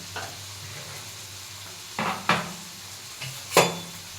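Vegetables seasoned with turmeric and black pepper being stirred in a pan, a few soft scraping strokes and clinks of utensil against metal over a faint low sizzle, near and otherwise quiet.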